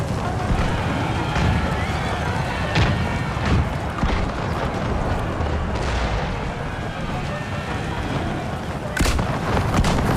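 Massed musket volleys and artillery booms from troops in the Empire Total War video game, loud crackling gunfire in bursts over a rumbling battlefield, with someone talking over it.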